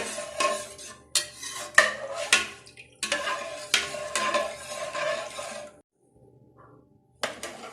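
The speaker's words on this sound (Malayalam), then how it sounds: "ഇടയ്ക്ക് നന്നായി ഇളക്കി കൊടുക്കണം" Aval payasam stirred in a 6-litre pressure cooker, with a ladle scraping and knocking against the metal pot in irregular bursts, clinks and rattles, dropping to near silence before one last clatter.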